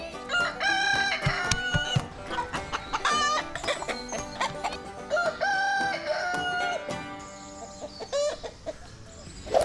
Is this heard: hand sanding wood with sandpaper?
no